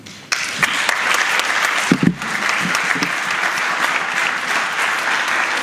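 A lecture audience at a public policy talk breaks into steady, sustained applause that starts abruptly and fills the room, with a few louder claps standing out near the start.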